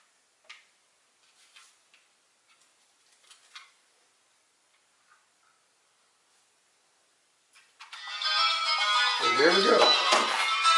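After several seconds of faint ticks and small taps near an old wall socket, a phone alarm starts up, playing bright, loud reminder music that continues steadily to the end.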